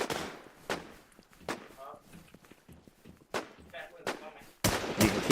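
Grenade blasts and gunfire in the video game Warz Infestation: several sharp, separate bangs spaced out, with a louder, fuller explosion near the end and a voice heard briefly between them.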